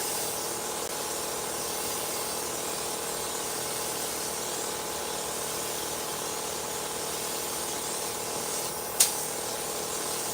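A paint spray gun lays down a medium wet coat as a steady, even hiss of air and paint, with a constant background hum and one sharp click near the end.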